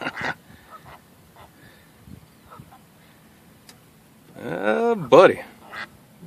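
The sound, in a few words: ducks mating on water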